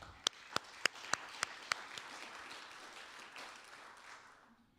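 Applause at a club luncheon: a few sharp, loud individual claps up front that melt into a softer wash of clapping from a room of people, fading out over several seconds.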